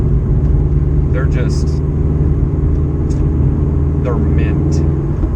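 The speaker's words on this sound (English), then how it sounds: "I like the way this car sounds." A Scion FR-S on the road, its engine and tires giving a loud, steady low rumble throughout, with a faint voice talking now and then over the drone.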